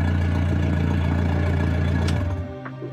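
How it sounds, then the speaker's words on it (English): Outboard boat engine running while trimmed up with its exhaust out of the water, a loud steady droning hum with a harsh buzzy tone that cuts off near the end, heard close with no talking. "That noise will tell you that your exhaust pipe is out of the water."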